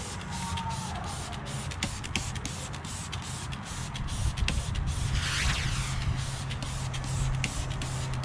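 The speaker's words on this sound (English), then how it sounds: "what I'm going to do is take the detail spray." Detail spray goes onto a painted, clear-coated wheel of a BMW 330i with a run of short rapid hissing trigger bursts, followed by a longer spray near the middle, all close and fairly loud.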